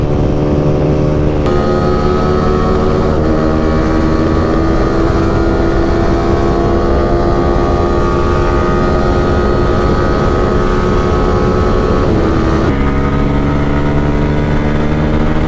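Motorcycles in a drag race between an R15, NS250, MT15 and N250 give a loud, sustained, high-revving engine whine with wind rush, holding pitch with brief shifts near the start and end.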